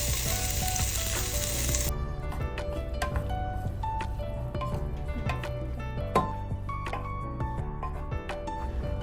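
Chopped vegetables and whole spices frying in oil inside a pressure cooker: a broad hiss up front, then a steady low sizzle scattered with small pops and clinks.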